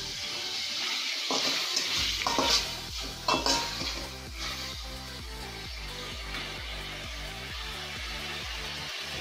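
Tomato and coriander being sautéed in a pan for thalicha semiya, with a steady sizzle and repeated scraping stir strokes against the pan, fairly loud and close, no talking.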